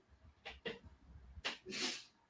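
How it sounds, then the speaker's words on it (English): Two quick small sneezes, then a louder pair a moment later, close by and with no talking. "having a little sneeze attack out there"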